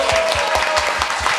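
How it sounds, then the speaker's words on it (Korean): Steady, dense applause from an audience at a book concert on anti-Japanese independence music, continuous claps filling the room without voices. "큰 박수 부탁드립니다."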